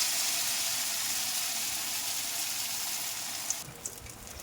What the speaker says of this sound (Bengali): এটাকে এখন তার মধ্যে এরকম করে ডিপ করে এই তেলটার মধ্যে ছেড়ে দিলাম।